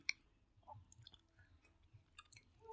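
Soft, close chewing of eggplant curry, wet squishy bites repeating in an uneven rhythm, quiet and alone with no talk.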